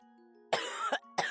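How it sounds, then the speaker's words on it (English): A harsh cough followed by another sharp cough after a short pause, loud and close, over a faint background hum. "She lay in bed with a terrible cough."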